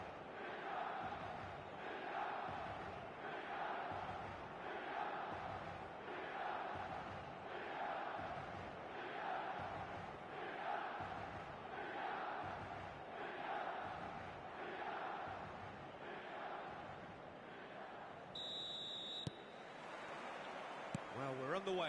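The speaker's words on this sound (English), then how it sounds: "An intimidating atmosphere in the crowd, a crowd so close to the pitch here in this old-style stadium" A stadium crowd in a football video game roars steadily in an old-style stadium, with rhythmic swells of chanting throughout and the crowd packed close to the pitch.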